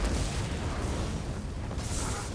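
A blockade spell explosion from Elder Scrolls Online erupts as a dense, continuous rumbling burst with a brighter flare near the end, loud and alone with no voices.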